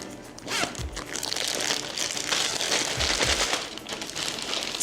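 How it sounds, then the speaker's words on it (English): Plastic bag crinkling and rustling close up as a cut raw chicken is pushed inside it in a home kitchen, with crisp crackles and a couple of sharper crunchy bursts, and no talking. "I'm gonna put it in a plastic bag"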